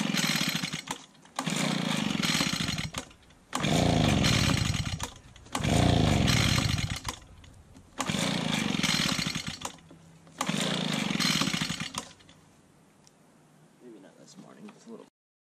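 Small push lawn mower engine at full throttle and full choke, loud buzzing bursts in repeated pull-start attempts that each run a couple of seconds then cut out, with short gaps between, ending in quieter sputtering.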